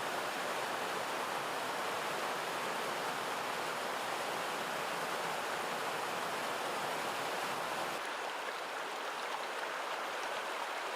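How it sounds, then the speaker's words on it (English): A waterfall pouring beneath an old logging chute in the Ontario wilderness makes a steady broadband rush, continuous and dense throughout, with no voices. "The waterfall's actually underneath this."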